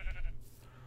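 Sheep bleating in the video game Minecraft, one short wavering bleat, fairly faint, with nobody speaking.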